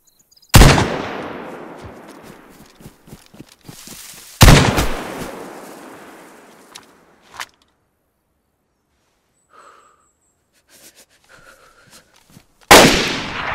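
Gunfire in a video game: a few sharp, loud single shots spaced seconds apart, each trailing off in a long rumbling echo, with small clicks and faint tones in the quiet gaps.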